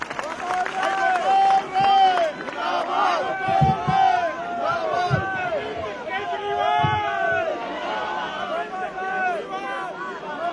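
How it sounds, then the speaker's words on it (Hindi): Crowd at a Delhi political rally greeting Gopal Rai with cheering, whistles and excited shouting, a dense noisy swell that rises and falls throughout. "जोरदार तालियों से स्वागत करिए गोपाल राय जी का"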